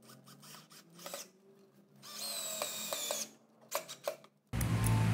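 Impact driver sinking a 4.5x50 screw into a wooden table leg, several short bursts of whirring, then a long sustained drive and a loud close hammering run at the end, no speech.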